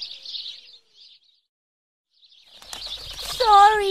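Bird chirps and high twittering calls in a children's English lesson scene, a short burst at the start, then a gap, then busier rising chirps with fluttering, ending under a child-like voice.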